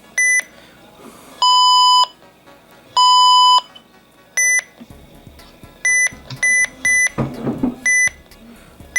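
A RadioShack 12-259 radio beeps in its alarm setting, a series of bright electronic tones in short chirps and longer held bursts, loud and close, with faint handling clicks between them.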